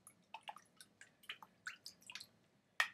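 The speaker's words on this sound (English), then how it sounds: "we're just gonna stir that around." Red colouring being stirred into a liquid for a liquid-to-solid sugar experiment at home: sporadic soft wet taps, squishes and small clinks, close and quiet, with brief pauses between strokes.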